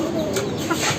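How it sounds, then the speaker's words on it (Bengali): A pair of Gola pigeons kept on a rooftop loft beside chickens coo close by in low, soft, continuous throaty tones, with no talk. "এই গোলা জোড়াটা আমাদের অনেক আগের, বলতে গেলে আমাদের ছাদের ফার্স্ট কবুতর"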